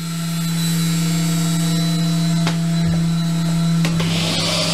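A CNC machine runs at its lowest spindle RPM, giving a loud, steady tonal hum with a strong low drone and higher whine. A few brief clicks and knocks break in partway through, with no voices.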